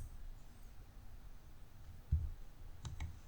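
A few sharp computer mouse clicks at a desk, one near the middle and a quick pair near the end, short and close against a quiet background with no talking.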